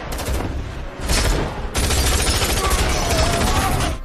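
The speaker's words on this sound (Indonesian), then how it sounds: "Baku tembak pun terjadi." Heavy gunfire rings out in bursts of rapid, overlapping shots and booming blasts during a movie shootout from Wrath of Man, loud and dense with brief pauses between volleys.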